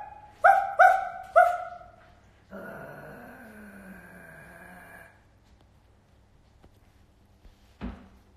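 A dog barks three sharp, close barks in quick succession, then lets out a longer whining growl, followed by quiet and one more short bark near the end; no speech.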